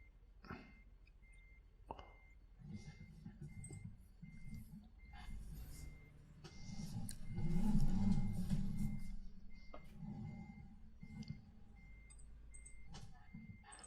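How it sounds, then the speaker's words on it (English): Trucking video game truck backing up, a faint steady reversing beep ticking under engine rumble and a person talking over it. "You know you're in reverse because of the beep."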